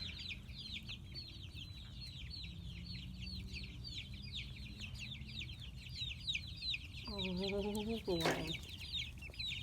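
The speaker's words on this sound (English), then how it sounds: "Free range chickies." Free-range heritage chickens cluck and chirp softly around a farmyard in a continuous low chatter, with a brief louder squawking burst near the end and a voice speaking briefly.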